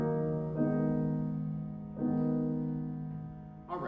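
Four sustained chords in a minor key, played slowly on an organ or keyboard at a free concert, each chord changing with a soft attack and ringing on steadily until the next.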